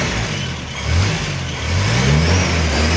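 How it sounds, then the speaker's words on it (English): Petrol engine of a military Land Rover, as used by the UK and US armies, turning over and revving, with a loud, steady mid-pitched drone whose pitch swells and climbs twice, close by and with no talk. "So petrol engine, you can hear the sound so exciting."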